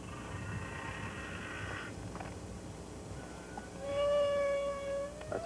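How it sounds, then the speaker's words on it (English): A single humpback whale sings long, drawn-out tonal moans and rising whoops over a steady underwater hiss, one call swelling louder near the end. "It's one single whale singing that song."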